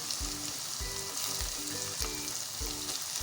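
Sliced onions fry softly in a pot for a beef white handi, giving a steady low sizzle with regular scraping stir strokes about every half second, close and quiet.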